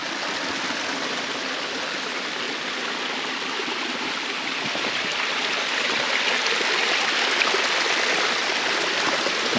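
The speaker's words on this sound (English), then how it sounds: "Check out this cute little stream with waterfalls." A small coastal stream with little waterfalls at Mendocino Headlands rushes and splashes steadily, a dense, continuous close-up water roar with no voices.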